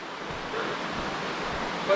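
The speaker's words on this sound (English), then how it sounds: "I hear waterfall." Steady broadband rush of a distant waterfall heard from a steep mountain trail in the woods, a constant even hiss with no voices or distinct events.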